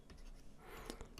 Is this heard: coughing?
no